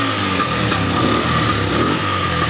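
A small Chinese petrol car engine, 200cc class, idles steadily just after starting, with a close, even, buzzing hum that stays loud throughout.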